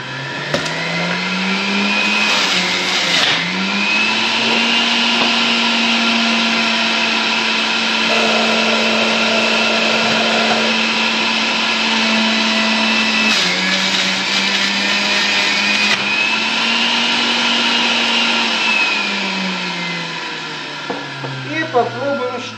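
A blender or juicer whirs steadily as it makes cucumber and apple juice, running loud and continuous for over twenty seconds, its pitch dipping briefly as apple pieces go in, before winding down near the end.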